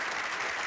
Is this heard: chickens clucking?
no